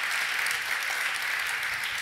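Steady applause from an audience at a Polar Music Prize talk, a continuous even patter of clapping throughout with no voices over it.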